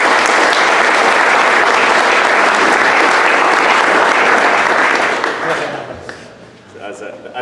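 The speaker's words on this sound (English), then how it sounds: "Can we give another round of applause to Ameen?" An audience at an Ethereum developers meetup in San Francisco gives a speaker a sustained round of applause, dense clapping close and loud that fades toward the end as a voice begins.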